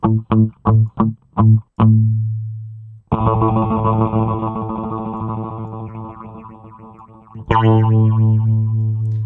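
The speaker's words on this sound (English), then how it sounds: "So your typical phasery sound." Sustained electric guitar chords sweep through a swirling FL Studio 12 phaser effect with speed and intensity turned up, after a few short plucked stabs, with a final chord struck near the end.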